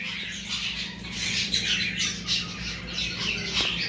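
Cockatiels and parrots in a caged bird shop squawk over and over in a loud, continuous chorus of harsh overlapping calls, with a low steady hum underneath.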